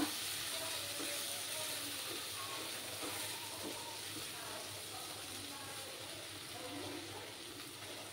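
Spice masala for chicken ghee roast fries in a pan over a low flame, giving a steady close hiss and sizzle with soft scraping, under a faint voice.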